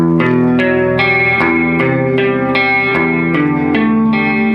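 An electric guitar on its neck pickup plays a run of ringing, warm, bass-heavy notes and chords with effects, loud and steady with no talking.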